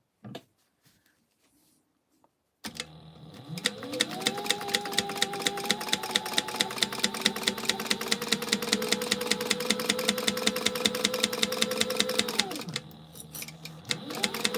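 Sewing machine stitching a quarter inch seam on a gingerbread house gift holder, a rapid even rattle of needle strokes that runs steadily for about ten seconds after a few quiet clicks, then slows and stops.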